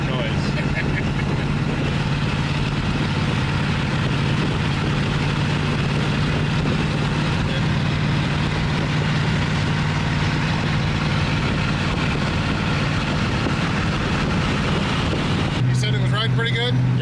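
A 1977 Pontiac Grand Safari engine running without a muffler gives a loud, steady low rumble throughout, with faint voices underneath.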